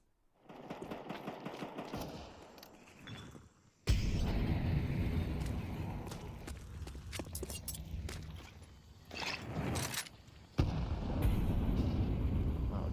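Pistol gunfire from a Counter-Strike 2 esports match, with rapid bursts of shots and heavy impacts breaking out in loud clusters amid continuous game noise.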